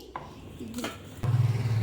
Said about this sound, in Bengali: আর কড়াইটা বসিয়ে দিয়েছি।